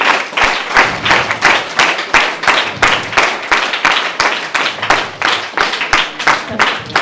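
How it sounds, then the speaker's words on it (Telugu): A group of school children claps together at a school distribution event for notebooks and clothes, giving a loud, rhythmic run of applause that sets into an even beat and keeps going throughout. "వారందరికీ కూడా ఒకసారి గట్టిగా చప్పట్ల ద్వారా మన కృతజ్ఞతల్ని తెలియజేద్దాం."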